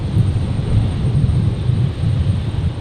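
A jet airliner taking off from runway 19 right at Brisbane Airport, a loud, steady low roar of engine thrust holding with little change throughout, wind buffeting the microphone.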